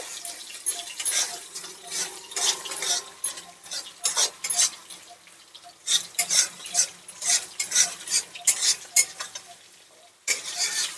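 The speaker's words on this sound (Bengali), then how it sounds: "কাজু বাটা দিয়ে আর একটু নেড়ে চেড়ে নেব" A spoon stirs cashew paste into a cooked-down spice masala in a pan, giving repeated scraping, sloshing strokes in a steady rhythm with a soft sizzle underneath, close and moderately loud, with no talking.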